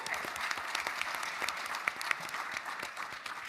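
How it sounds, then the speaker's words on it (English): Audience applause at a gaming podcast panel during PAX East 2025, steady dense clapping from a crowd lasting a few seconds with a few sharper nearby claps standing out. "we do not charge for clapping"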